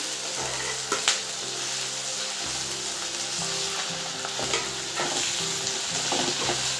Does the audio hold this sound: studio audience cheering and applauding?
no